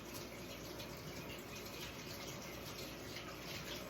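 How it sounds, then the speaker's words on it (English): Kitchen tap water runs steadily as sugary hands are rinsed, a continuous close splashing gush under the sink. "I got sugar on my hands, so I'm just gonna give it a quick wash here."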